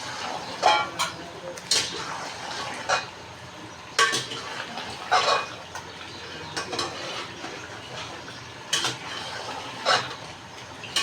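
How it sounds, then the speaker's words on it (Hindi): Mutton and spinach being stirred and fried in a pot for palak gosht, with repeated scraping clanks of a metal spoon against the pot over a low sizzle, coming in uneven bursts. "अब हम करते हैं इसको मिक्स करते हैं"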